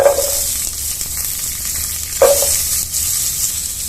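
Small shallots halved and sautéed in hot oil, with a steady sizzle that flares twice as the pieces are stirred in a pan for drumstick sambar.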